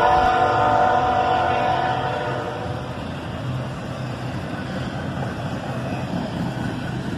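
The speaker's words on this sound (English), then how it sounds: "A single ES44AH is getting this auto rack train moving." A single ES44AH diesel locomotive pulls an auto rack train into motion, giving a low, steady engine drone and rolling rumble. It is loudest at first, then eases to a constant mid-level hum.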